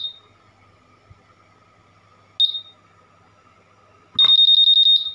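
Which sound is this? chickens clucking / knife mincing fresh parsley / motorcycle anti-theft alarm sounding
motorcycle anti-theft alarm sounding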